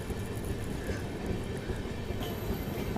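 A passenger train running on the line near Agra Cantt in India gives a steady, loud rumble of wheels and carriages with faint rail squeal, heard from on board and continuous with no talking.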